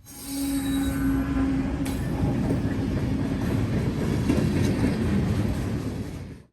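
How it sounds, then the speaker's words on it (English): Westbound freight train led by two Union Pacific GE locomotives rolls past loudly, with steady rumbling wheels, rail clatter and a brief high wheel squeal early on. "It's for westbound 179, led by two big Union Pacific GEs."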